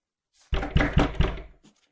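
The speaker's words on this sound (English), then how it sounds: "Some nut is knocking on our door" Four firm, evenly spaced knocks land on a door close by, loud and resonant, followed by a faint shuffle.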